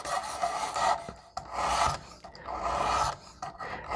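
A knife blade's heel is drawn across the abrasive of a Precision Adjust sharpener in a run of close, gritty rasping strokes, each a second or so long, separated by brief pauses.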